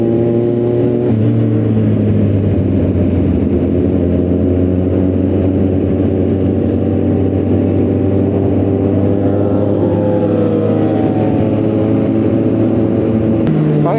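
Motorcycle engine humming steadily while riding along a road, a continuous close drone with slight pitch shifts as speed changes and no talk.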